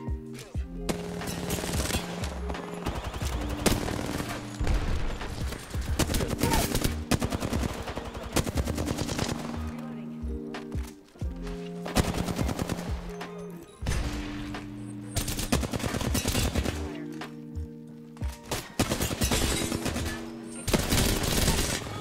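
Rapid gunfire from Apex Legends, with dense bursts of shots running almost continuously at close range. Loud automatic fire keeps repeating through the stretch, with only brief gaps between volleys.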